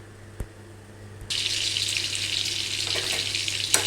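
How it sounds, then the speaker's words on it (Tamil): Ghee and oil heat in a pan before tempering a radish gravy, a steady close hiss that swells suddenly and stays loud, with a couple of small clicks and no talking. "நெய்யும் எண்ணெயும் ஊற்றியிருக்கேன்."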